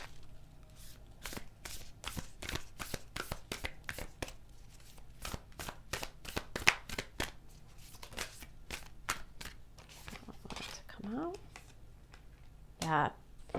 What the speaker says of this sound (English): let's pull some cards, some oracle cards for you